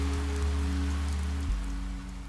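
Steady rain falls in a scene from the Bleach anime Bount arc, a dense continuous patter under a low droning hum that shifts partway through.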